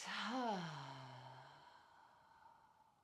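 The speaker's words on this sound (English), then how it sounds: "Deep breath in. And exhale, side out." A single deep exhale during a relaxation breathing exercise, a soft, breathy sigh close to the mic that fades away over about two seconds.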